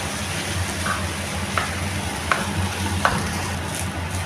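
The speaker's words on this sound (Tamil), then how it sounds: "இப்போ இதை ஒரு வாட்டி நல்லா மிக்ஸ் பண்ணி விட்டுக்கலாம் எல்லாம் சேர்றதுக்கு." Steady sizzling of paneer fried rice fills the background while a utensil scrapes and taps against the pan at regular intervals, four soft strikes in a row.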